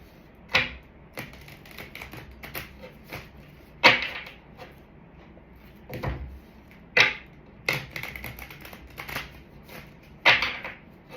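Oracle cards being shuffled by hand in repeated sharp riffling bursts, about a dozen quick rustles spread evenly, close and fairly quiet with no talking.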